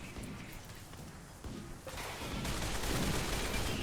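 Gunfire aimed at defensive turrets in Rimworld, a dense crackling fusillade of rapid shots that builds louder and more continuous toward the end, with no talking.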